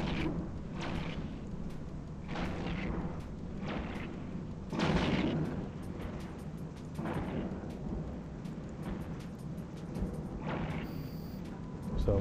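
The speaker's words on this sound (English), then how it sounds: "now we can start firing" Ship weapons fire in the space game Eve Online, a run of heavy booming blasts repeating every second or two over a steady low rumble, loud and close with no talking.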